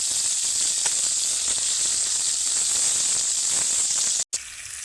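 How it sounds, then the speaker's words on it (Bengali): Continuous bright sizzle of raw potatoes frying in hot oil, steady and close, with a brief cut near the end. "আলুগুলো একটু বেশি করেই ভাজবো"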